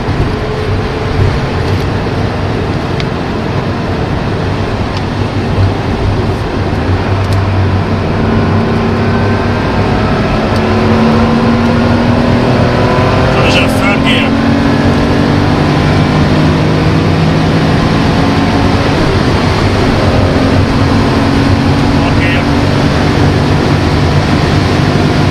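A 1983 Porsche 911 3.0 SC on the move, heard as a steady, loud blend of engine drone and road and wind noise that holds for the whole stretch with no voices.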